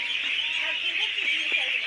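A broad, noisy chorus of thousands of ducks quacking and honking at once, a constant crowded din from a huge flock.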